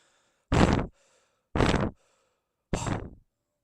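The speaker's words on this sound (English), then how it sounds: "The breathing is so bad" Three separate heavy breaths blown straight into a microphone, each about half a second long with pauses between them, loud, close and distorted, with no talking.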